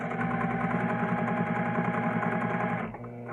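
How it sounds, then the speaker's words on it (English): A sewing machine stitching a bag lining down to the folded bottom edges runs at a steady, loud, continuous buzz, then cuts off abruptly near the end. "then you're going to sew all the way down to the bottom folded edges, and you're going to back stitch again"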